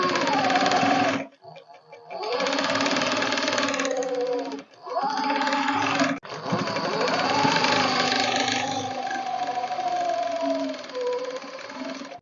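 An electric sewing machine stitches a Korabdar pheran in long, loud, steady whirring runs, with short pauses between bursts and a sustained droning hum throughout.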